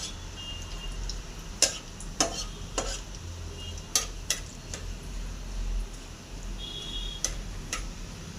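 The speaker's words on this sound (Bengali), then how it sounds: "তেলটা গরম হয়ে গেছে, এখানে জিরে, সর্ষে আর শুকনো ঝাল দিয়ে দেবো।" Cumin, mustard seeds and dried red chili crackle in hot cooking oil, giving a steady low sizzle punctuated by sharp, irregular pops and spits spread across several seconds.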